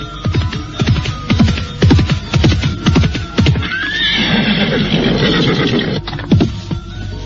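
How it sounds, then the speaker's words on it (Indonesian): Galloping horse hooves in a radio drama sound effect, a rapid rhythmic clip-clop that gives way to a loud whinnying neigh before the hoofbeats return, close and prominent with no talk. "Mendadak, dia melihat seekor kuda berlari mendekat."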